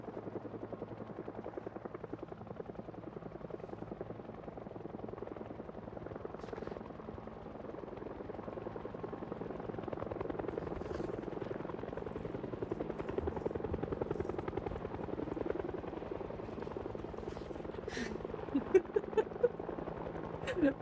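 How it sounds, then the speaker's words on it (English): A helicopter hovers loud and close in Project Zomboid, its steady rotor thrum droning throughout with brief sharp clicks and pops near the end; no one speaks. "Literally, the chopper is so loud here."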